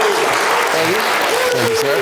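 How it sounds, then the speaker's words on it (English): A crowd claps in a short burst of applause while a voice briefly speaks over it. "give them a round of applause, everybody."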